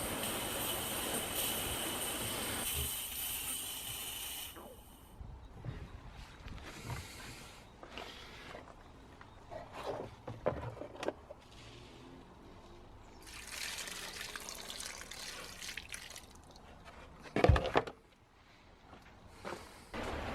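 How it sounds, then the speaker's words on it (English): Compressed air and water burst from the opened drain tap of a homemade compressor air drier trap with a loud hissing spray, then stop. Quieter trickling and clanks follow, and a second sharp burst comes near the end. "I'll give you a demonstration of opening the tap. We can see how much water comes out."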